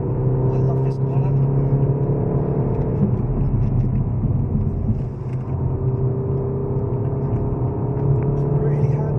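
A sports car on the Goodwood performance track hums steadily through a corner with a continuous engine drone and some road whir, heard from inside the cabin with a slight dip midway.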